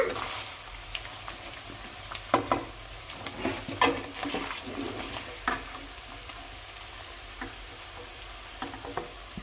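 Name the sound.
paneer frying in ghee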